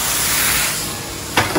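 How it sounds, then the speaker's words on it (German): Tomatoes hitting a hot pan in a restaurant kitchen while preparing wild duck, giving a steady broadband hiss that swells sharply near the end as they land, with no voices. "So, dann machen wir jetzt die Tomate mit dazu"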